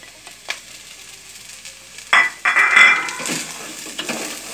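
Chopped onion dropped into a hot frying pan, bursting into a loud sizzle after a few light utensil clinks, then settling into steady frying with occasional stirring scrapes.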